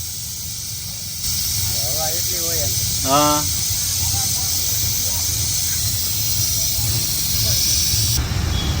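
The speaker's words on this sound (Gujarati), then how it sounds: "પંદર લીટરનું કુકર છે અને પણ સિટી લગભગ દોઢ મિનિટ ત્યાં વાગે" A 15-litre pressure cooker whistle lets out a long, continuous, loud hiss of steam that runs steadily through the whole stretch, while people talk briefly over it.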